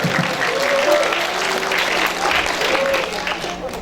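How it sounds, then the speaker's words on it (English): Audience applause at an international seminar, many hands clapping steadily while a voice speaks faintly over it. "Give a hand applause for Mr. Jack once again."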